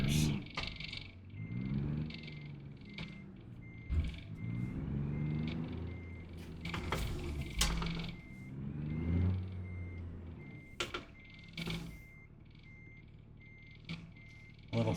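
Truck reversing beeps in American Truck Simulator, a steady series of high beeps repeating over the low rumble of the idling rig, with someone talking loosely throughout.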